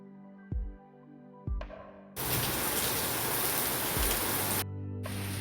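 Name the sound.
heavy rain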